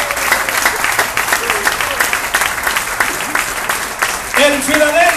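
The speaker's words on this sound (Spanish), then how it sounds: "Den un aplauso al que vive por los siglos de Dios." A church congregation at an evangelical service claps in unison, a loud, sustained wave of applause with crowd noise and a voice speaking over it.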